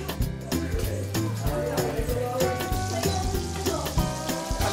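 Shrimp and squid frying in melted butter while browning, a soft sizzle running under clinking utensils and background music, with someone talking over the cooking.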